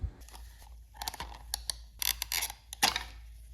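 Plastic snap claws pried off a fuel pump assembly from a Lexus GS 300 / IS 300 fuel pump and filter unit, giving a series of close, sharp creaks and clicks in irregular bursts, with no talk.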